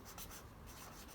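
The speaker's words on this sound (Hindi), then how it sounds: "यहाँ लिख रही हूँ मैं" Writing strokes during a polynomials lesson, a quiet, steady scratching that runs for about a second with no talk.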